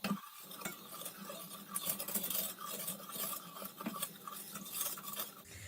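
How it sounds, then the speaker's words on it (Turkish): A utensil scrapes and clinks steadily against the inside of a pot as sugar syrup for kumquat jam is stirred over high heat, with soft continuous texture and no voices. "Bu arada sürekli karıştırıyorum ki şekerler dibine yapışmasın."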